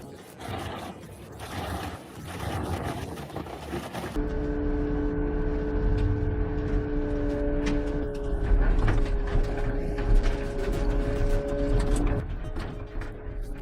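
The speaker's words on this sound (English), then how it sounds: "This is the TCS Donner 5000, 810 volts, an absolute beast in the wood chipping world." A TCS Donner 5000 wood chipper running at 810 volts on a Mercedes Arocs truck, a loud steady mechanical drone with sustained tones, rumbling and scraping throughout, its pitch shifting as the machine changes load.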